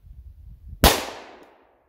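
A single sharp, loud gunshot from a 10mm Glock 29 pistol fitted with a 6.5-inch KKM barrel cracks outdoors and then rings out and decays over about a second, with quiet low background noise beforehand.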